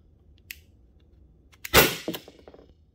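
A Byrna HD launcher fires an oiled rubber ball into a BallCatcher 2.1: a faint click, then one sharp, loud close pop with a brief clattering rattle after it.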